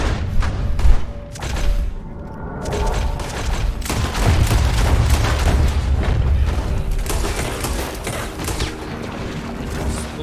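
Rapid gunfire from dual pistols in the Western game Red Dead Redemption 2, loud and dense, with heavy booms and fusillade-like bursts layered over game music and effects.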